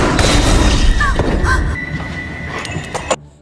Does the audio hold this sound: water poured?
no